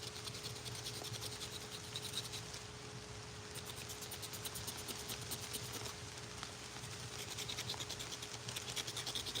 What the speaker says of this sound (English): Scrape it all the way down to the wood